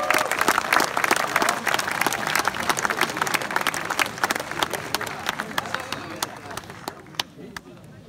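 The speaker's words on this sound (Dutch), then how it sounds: "geef hem een waanzinnig groot applaus" Audience applause at a Dutch music show greeting a musician as he is introduced, dense steady clapping with crowd noise that gradually thins out toward the end.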